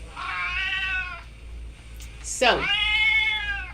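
Kitten Dax gives two long, drawn-out meows, the second rising sharply before settling into a sustained wail, close and clear over a low steady hum.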